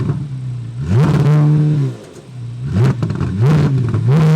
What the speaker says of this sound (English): I mean, it sounds like a Formula One car.